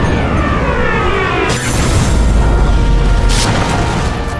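A grenade in Sniper Elite V2 detonates after being shot, giving a loud, deep boom with rumbling low end amid dense, continuous battle noise, followed by a second sharp burst.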